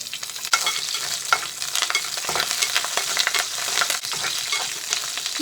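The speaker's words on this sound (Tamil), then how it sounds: "இதில் எடுத்து வச்சிருக்கிற பச்சை மிளகாயும் கருவேப்பிலையும் போட்டுடலாம்." Green chilies and curry leaves sizzle and crackle steadily in hot sesame oil for mutton liver gravy, a dense continuous frying hiss with stirring, close and alone.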